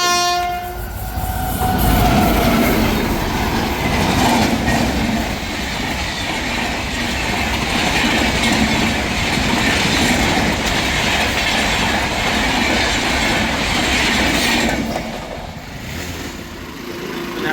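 A train rushes past close by in the Konkan region, starting with a horn blast and then a long, loud roar of wheels and clickety-clack that fades toward the end.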